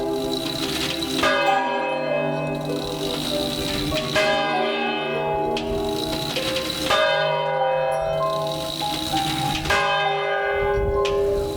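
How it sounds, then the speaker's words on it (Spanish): Church bells peal in a steady, repeating sequence, loud and rich with long ringing overtones, several strikes overlapping with no voices. "Son las campanas"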